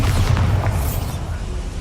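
A Bombarda spell detonating in Hogwarts Legacy, a heavy low rumbling blast that holds loud and steady through the whole moment, with a few brighter crackling bursts early on.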